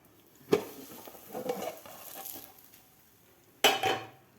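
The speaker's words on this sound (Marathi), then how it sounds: "ताटामध्ये आपण पलटी करून घेऊया" An egg Maggi paratha is flipped out of a pan onto a plate, giving a sharp metallic clatter at the start, a soft scraping shuffle, then a second louder clank of pan against plate near the end.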